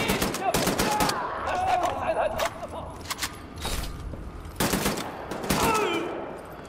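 Rapid bursts of gunfire in the first-person shooter Wolfenstein: The New Order, sharp repeated cracks in clusters with short pauses, while someone talks over the shooting.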